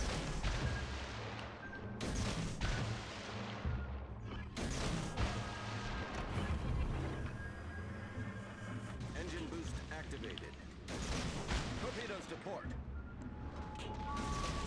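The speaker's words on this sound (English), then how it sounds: "that last torpedo I launched came really close" Naval gunfire and a torpedo launch in a warship video game, with repeated heavy booms and crashes over a constant rumbling engine-and-sea bed, while a player talks throughout.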